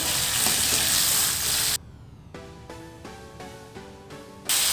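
Spices for a local chicken curry fry in a pan with a loud, steady sizzle for nearly two seconds, then quieter intermittent clinks and stirring sounds follow before the sizzle swells again.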